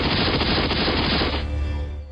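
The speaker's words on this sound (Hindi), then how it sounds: "फिर ताबड़तोड़ फायरिंग कर दी।" A loud, dense burst of rapid gunfire sound effect dominates at close range for about a second and a half, then cuts to a fading rumbling tail.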